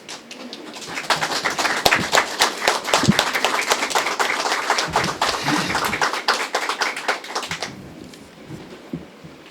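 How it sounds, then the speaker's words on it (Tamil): A standing audience at a Tamil astrology lecture in a hall breaks into dense, loud applause that swells for several seconds and then cuts off, leaving a quiet room. "அனைவரும் எழுந்து நின்று கைத்தட்டி உற்சாகப்படுத்துமாறு உங்கள் சார்பாக கேட்டுக்கொள்கிறேன்."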